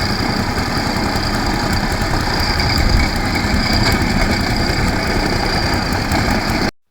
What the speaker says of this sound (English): While the machine roller was compacting the hardcore